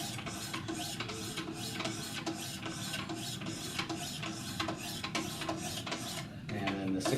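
Knife sharpening on 400 grit stones with a Wicked Edge sharpener, a close, continuous run of rapid rasping strokes scraping back and forth at an even rhythm, without talking.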